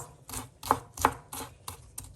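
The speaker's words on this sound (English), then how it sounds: "This is green peppers I'm cutting and chopping off in small" A knife chops green pepper into small pieces on a cutting board for a stovetop beef ribs dish, about seven quick close taps in an uneven rhythm, crisp and moderately loud, with no talking.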